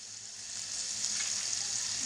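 Onions sizzle steadily in a pan, a bright, close, continuous frying hiss that swells slightly as it goes, with no voices over it.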